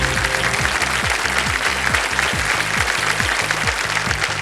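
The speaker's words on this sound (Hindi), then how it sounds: "बिल्कुल सही जवाब दिया आपने, ताली बजाएं।" The studio audience of the KBC quiz show claps loudly and steadily after a correct answer, while rhythmic game-show music pulses underneath.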